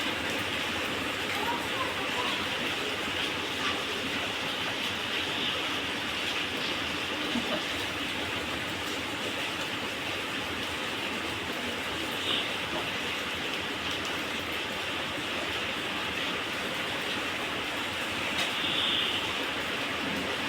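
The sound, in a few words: heavy rain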